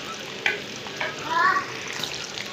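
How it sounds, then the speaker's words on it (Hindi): Cut potato fries going into hot oil, a steady close sizzle that swells into a bubbling hiss before settling back to an even fry. "एंड तेल गरम हो चुका है, मैं इसको डाल लेती हूँ।"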